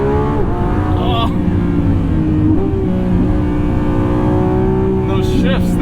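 A Lamborghini Revuelto accelerates hard in track mode. Its loud, close engine note climbs in pitch, then drops sharply at each gear shift, giving several distinct rising sweeps cut by abrupt shift breaks.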